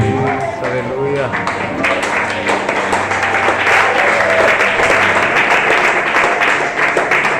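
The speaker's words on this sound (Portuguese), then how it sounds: "Pode aplaudir o Senhor" A church congregation claps during a worship service, sustained applause mixed with voices and speech over it, fairly loud throughout.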